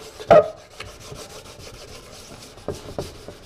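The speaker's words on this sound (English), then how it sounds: "you're also sanding it so the paint can stick" Short hand-sanding strokes scraping and rubbing a painted car dash part, close by, with one louder rasp near the start and a couple of fainter strokes later.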